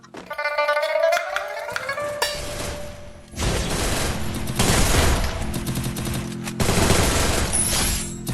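Gunfire in the mobile shooting game Free Fire breaks out in loud bursts of rapid automatic shots with short pauses between them. Rising electronic game tones come first.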